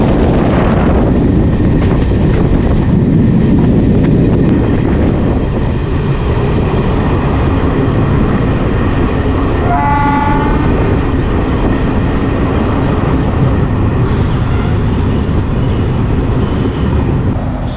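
A Sonpur to Vaishali DEMU passenger train runs at speed, heard from on board, a loud steady roar with rattling wheels and high squealing from the wheels on the track.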